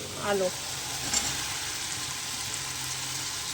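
Fried potatoes tipped into a mustard-oil masala for a mustard fish curry, giving a steady close sizzle with a brief burst of clatter near the start, then continuous frying hiss throughout.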